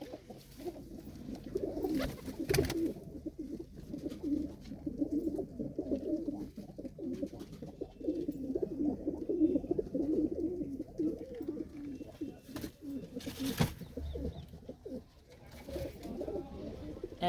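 Pigeons kept in a darkened loft coo in low rolling calls that overlap continuously, close and fairly quiet, broken by a couple of brief sharp knocks.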